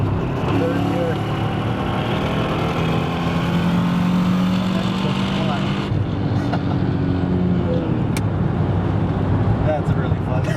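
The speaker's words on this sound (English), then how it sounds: "the fun part is shifting down the gears" A Mercedes E55 with a manually swapped gearbox drones loudly from inside the cabin as it downshifts, the engine note shifting abruptly partway through, then a continuing steady roar.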